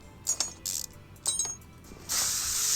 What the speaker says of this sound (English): Spray some WD-40 up in there.